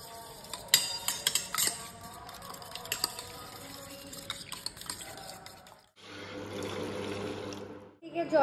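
Dried chilli, salt and ground pepper are stirred together in a bowl with a spoon, giving soft clinks and scrapes, followed by a steady hiss of running water in a kitchen.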